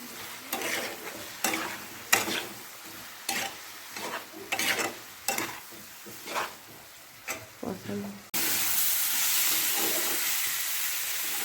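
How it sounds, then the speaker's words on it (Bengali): Snail curry with chilli powder and turmeric being stir-fried in a pan: a steady series of scraping stirs with light sizzle, then a sudden, continuous loud hiss as a little water hits the hot pan. "এর জন্য অল্প জল দিয়ে ভালো করে কষাবো।"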